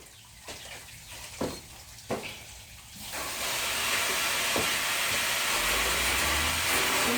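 Sprayer misting water and Nu-Calgon Tri-Cleaner 2X onto coils, with a few sharp clicks and short bursts, then a continuous loud hiss of spray from about three seconds on.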